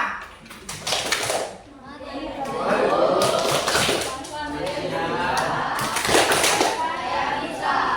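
A primary school class performs the rhythmic 'Tepuk IPA' clap chant, bursts of group clapping with children's voices chanting along, fairly loud and close in a classroom.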